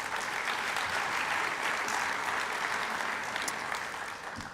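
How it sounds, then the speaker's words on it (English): Sustained audience applause at a Hall of Fame induction ceremony, a dense steady clatter of many hands clapping that carries on throughout and eases off slightly near the end. "So another round of applause for Joel Lindberg."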